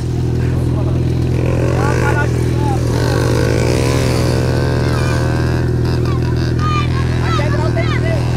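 A Yamaha XJ6 motorcycle idles close by with a loud, steady low rumble throughout, while voices talk over it.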